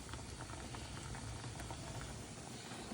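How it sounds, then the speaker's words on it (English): A fruit mixture for mini Christmas cakes simmers in a pan on a turned-down hob, giving a quiet, steady bubbling and soft pattering throughout, faint and close with no voices. "Now then, you can see that one's bubbling."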